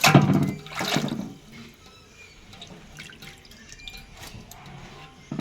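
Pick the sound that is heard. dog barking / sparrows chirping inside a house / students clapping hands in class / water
water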